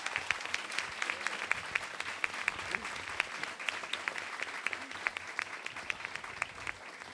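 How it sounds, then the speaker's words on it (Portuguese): Sustained applause from an audience at a municipal council ceremony in Macaé, dense steady clapping filling the room throughout with no pauses. "Uma salva de palmas, por gentileza."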